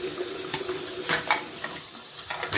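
Tap water runs and splashes over a plastic aquarium collection cup being washed by hand in a sink, with intermittent clatters and bursts of spray as the cup is turned under the stream.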